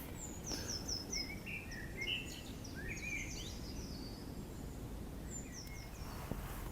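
Birds sing and chirp around a fishing lake in spring, several short bright calls trading back and forth over a steady outdoor background hush, no one speaking.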